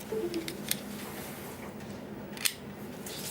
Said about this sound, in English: They're like too clicky or almost fragile.